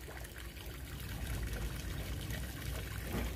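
Water poured over water spinach seeds to soak them gives a quiet, continuous trickling pour, close by and steady throughout.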